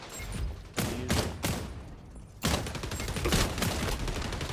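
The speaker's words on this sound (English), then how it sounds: "Kyle, this gun is stupid, bro." MK 20 SSR rifle firing in a video game, several bursts of loud sharp shots, the last one long and sustained, close and harsh with a noisy background.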